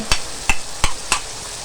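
A spoon stirs yogurt into frying masala with eggplant for aloo baingan, giving four evenly spaced sharp clinks against the pan over a soft sizzle.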